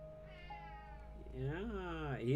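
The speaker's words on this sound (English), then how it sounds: "He is the bossiest cat I've ever had when it comes to feeding time." A cat meowing insistently at feeding time, with long rising and falling meows close by, one overlapping with a low whine, growing louder toward the end.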